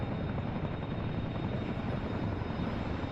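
A Chinook twin-rotor helicopter flies in the combat game DCS World, giving a steady, loud, continuous rumbling drone with dense low thumping and no voices.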